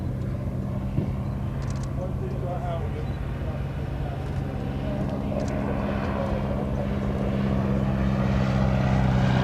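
A Parnall Elf vintage propeller monoplane flies a display at an air show, a steady distant engine drone holding throughout with faint crowd ambience and a commentator talking over it.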